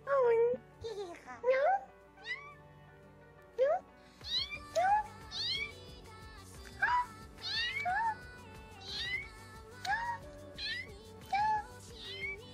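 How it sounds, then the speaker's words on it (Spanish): A cat meows repeatedly, a series of clear, fairly close calls spaced every second or so, some rising and drawn out, over a low steady background hum. "Es un gato, weón, es un gato"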